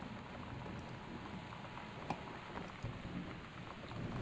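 Rain in the game Gone Home during a severe weather warning, a quiet steady patter and hiss of rainfall with a few faint drips and soft thumps, heard alone without speech.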